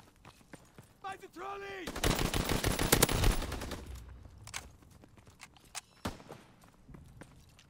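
A gun firing in Call of Duty WW2 gameplay, with a sustained burst of rapid automatic shots lasting a couple of seconds and then a few scattered later shots, amid game sounds and footsteps.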